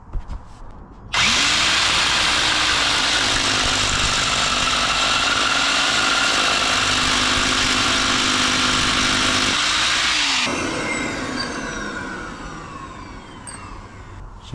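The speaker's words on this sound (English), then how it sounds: "Now we can try with the big drill." A large hammer drill roars continuously for about nine seconds at close range, drilling into the ground to install a bike ground anchor, then cuts off and spins down as the noise fades.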